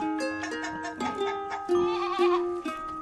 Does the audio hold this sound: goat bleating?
yes